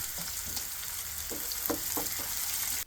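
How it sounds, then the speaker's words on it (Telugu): Onion pieces and curry leaves fry in oil with a loud, dense sizzle and crackle, broken by several stirring scrapes. Close and continuous, with no voices. "ఉల్లి ముక్కలు వేయాలి కరేపాకు వేయాలి"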